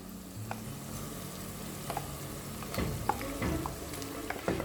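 Marinated chicken for Chettinad chicken curry sizzling in a pan, a soft steady fry with scattered crackles and stirring scrapes, fairly close and without voices.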